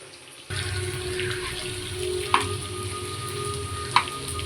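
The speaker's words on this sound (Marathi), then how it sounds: "कांदा मी असं छान फ्राय करते" Finely chopped onion frying in oil in a pan, a steady close hiss of sizzling that starts abruptly, with two brief clinks of a utensil and no speech.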